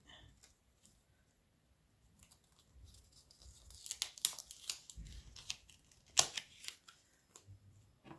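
Scissors snip through paper, a short run of crisp cuts and rustles up close at moderate level, with quieter handling before and after.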